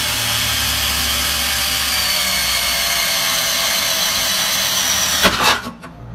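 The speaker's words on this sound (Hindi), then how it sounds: "ये हम दीवार में सुराख कर रहे हैं इस ड्रिल की मदद से।" A 12V cordless power drill bores a hole into a wall, giving a steady, loud whirring grind that runs continuously and then cuts off with a brief rattle.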